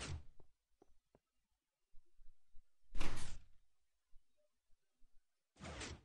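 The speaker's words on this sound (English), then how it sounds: "So you see the water hopper door and the outer door, they closed" Minecraft airlock doors snap shut in three quick, loud bursts of sliding-door noise, separated by near silence with a few faint clicks from the mechanism.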